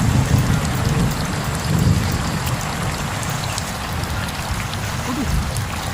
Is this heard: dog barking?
no